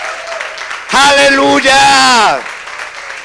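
A church congregation in Buenos Aires applauds loudly during a sermon, a dense wash of clapping under a loud shouted exclamation, with the crowd noise swelling and fading over about a second and a half.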